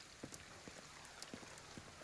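Rain from the video game Ghostwire: Tokyo falls as a continuous soft hiss, with scattered louder drops pattering on surfaces at irregular intervals.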